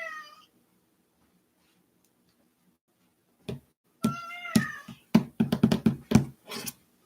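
A house cat meows once briefly, then after a silent pause gives a run of close, loud meows and chirpy cries mixed with knocking and handling sounds.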